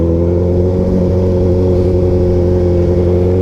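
Suzuki Hayabusa motorcycle engine running close up, a loud sustained droning hum with a steady pitch and no voices.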